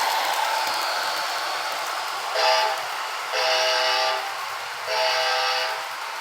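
Athearn Genesis P42DC model locomotive running with a steady electric motor whir and hiss, punctuated by three sounded horn blasts, the middle one longest, with no talking.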